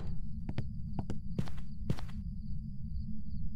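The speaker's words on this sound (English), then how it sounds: "Do I hear footsteps?" Footsteps in the horror video game Phasmophobia, a handful of sharp irregular steps clustered in the first two seconds over a steady low hum and a faint high whine, then only the droning background.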